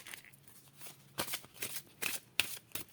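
Tarot cards being shuffled for a reading, a few soft quick riffling bursts and papery slaps close by in a quiet room, with no voices.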